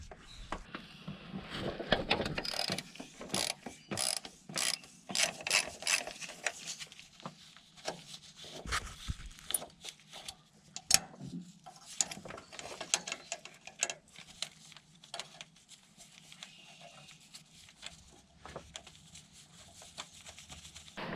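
Bolts being removed from the PTO gearbox linkage of an International 4700 truck, a close, irregular run of metallic clicks, ratcheting and clanks with short scraping handling sounds, no talk.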